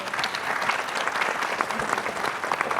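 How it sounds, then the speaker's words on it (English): A crowd at a healthcare innovation event applauds the judges, a brief burst of steady, dense clapping with no break. "Could we have one final round of applause for our judges, please?"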